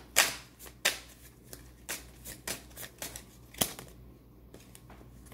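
Tarot cards shuffled by hand, a series of crisp riffling bursts and soft slaps at an uneven pace, close and clear with no talking.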